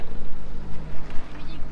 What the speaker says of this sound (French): On a un moteur maintenant.